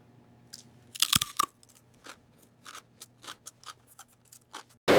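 Potato chips crunch while being tasted, a loud burst of brittle crackling followed by a string of sharp, irregular bites and crunches, close to the ear with brief quiet gaps between them.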